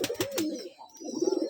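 Rajshahi Giribaz pigeons coo at a rooftop loft, close and fairly soft. A few quick higher clicks open the clip, followed by two low, throaty coos separated by a short pause.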